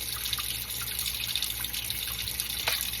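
Tap water running steadily while a coffee maker part is rinsed, a close, constant splashing hiss with a sharper knock of the part near the end.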